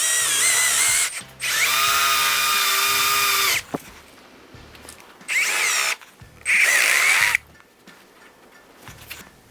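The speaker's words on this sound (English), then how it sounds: "Now I'm going to start drilling down through" A power drill bores down through wood while building a sliding barn door, running in several loud bursts of a few seconds each with short pauses and quieter handling noise between them.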